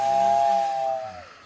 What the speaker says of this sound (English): I've got a whistle now.